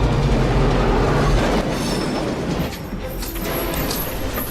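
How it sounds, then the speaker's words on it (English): A train rumbles loud and close on the track, its heavy continuous roar mixed with clattering wheels and faint high squeals, with no voices over it. "A train is coming!"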